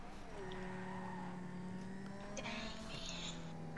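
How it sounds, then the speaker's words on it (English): A Banshee sports car racing in GTA 5, its engine droning and shifting pitch as it accelerates, with tire noise and faint game effects over a steady background. "The horsepower on this Banshee is monstrous"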